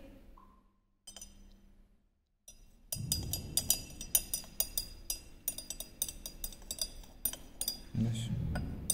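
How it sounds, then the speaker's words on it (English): Glass rod stirring a solution inside a glass Nessler cylinder during a chloride limit test, a rapid run of light ringing clinks and taps after a few quiet isolated touches, close and delicate. "We have to properly stir it so that Nestler cylinder doesn't break."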